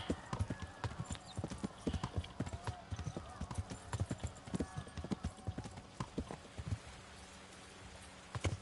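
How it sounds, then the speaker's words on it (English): Horse hooves clip-clop in the medieval role-playing game Kingdom Come: Deliverance II, a steady, fairly faint trot of rhythmic hoofbeats that thins out toward the end, with a voice talking over it. "el caballo ese se puso en el medio"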